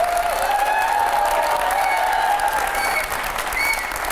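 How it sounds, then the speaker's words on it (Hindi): Dense, steady audience applause from a studio crowd at a televised quiz show, loud and continuous with a few whistles and cheers mixed in, no pauses. "जोरदार तालियां हो पहले"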